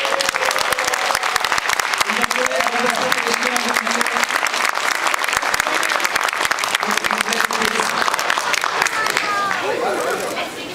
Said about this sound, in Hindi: बच्चों के लिए ताली बजा दीजिए।